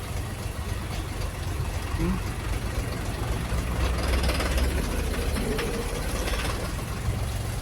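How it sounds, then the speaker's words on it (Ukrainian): A Dongfeng 244 tractor engine idles quietly and steadily, a soft continuous low rumble throughout with no talk over it. "Дуже тихенько працює мотор дуже гарненько все працює"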